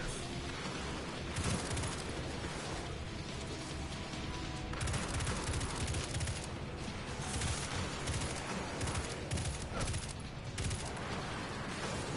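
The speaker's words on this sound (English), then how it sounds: "So that's what grenade launchers are good for. The multi-shot ones." Multi-shot grenade launcher in the video game Destiny 2 fires volleys of grenades that burst in rapid, overlapping booms, a loud, dense barrage of explosions and gunfire continuing throughout without talking.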